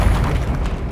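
A Stupefy spell cast in the Hogwarts Legacy video game lands with a loud, low, rumbling boom and a burst of impact noise lasting under a second, with no talking.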